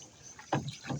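Oars working a wooden rowboat on a river make soft splashing and creaking strokes, close and fairly quiet, with faint wind in the background.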